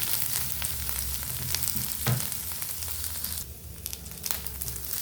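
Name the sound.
frying boiled jowar (sorghum) grains in tempering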